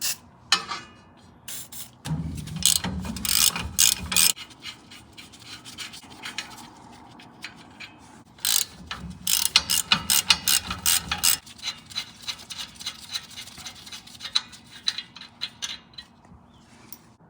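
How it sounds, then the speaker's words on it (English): A hand ratchet with an 18mm socket backs off axle nuts on a Nissan Titan, giving bursts of rapid close clicking alternating with quieter pauses and some metallic scraping. "We're going to be using an 18mm socket."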